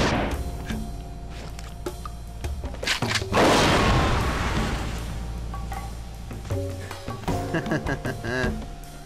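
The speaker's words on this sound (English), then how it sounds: "I'm using a grenade." A grenade goes off in the shooter XIII, a single loud, close blast with a long crashing tail, set among scattered game sounds and clatter.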